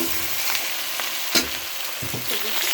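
Crushed green chili and crushed rice hit hot oil with five-spice seeds, giving a steady close sizzle with a few sharper spits and light stirring scrapes, no voices.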